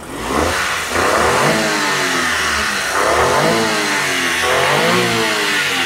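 A mini van's turbo engine revs up and down repeatedly, loud and close, its pitch rising and falling in steady waves with no talking.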